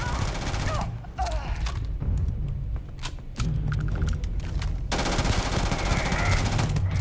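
Rapid bursts of automatic gunfire from a shooter video game rattle loudly and continuously, broken by a brief lull, while players talk over the shots.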